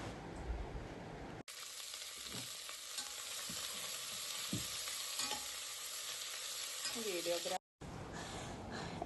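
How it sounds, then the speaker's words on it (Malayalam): Chopped onions sautéing in hot coconut oil in a pressure cooker, a steady close sizzle with occasional stirring scrapes, briefly cut by two short gaps, with no talk. "അതിലേക്ക് ചെറുതായി അരിഞ്ഞു വെച്ച സവാള ചേർത്ത് വഴറ്റുക"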